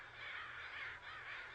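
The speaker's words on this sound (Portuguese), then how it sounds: "Os corvos têm um sistema de comunicação muito rico." Crows give a quick run of harsh, rasping caws, close and fairly loud, with no talking over them.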